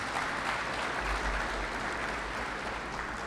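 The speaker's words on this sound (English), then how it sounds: "Let's give them a round of applause." A round of applause from the audience at a secondary school football league prize-giving, dense, even clapping from a crowd that stays constant and fairly loud for the whole stretch with no voices on top.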